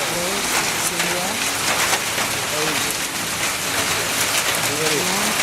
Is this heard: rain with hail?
yes